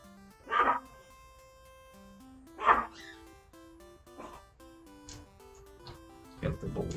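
A pet chihuahua named Lucky yips and barks in several sharp, separate bursts over chiptune music from the NES game Maniac Mansion, the last barks coming quicker and fainter.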